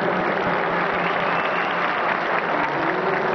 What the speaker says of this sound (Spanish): fuera un aplauso unánime que le diéramos a toda la organización del centro, a Radio 620 y desde luego al sonógrafo